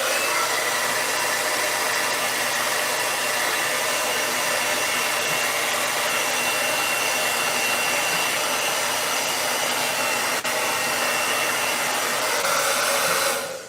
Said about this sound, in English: I'm gonna blow dry this portion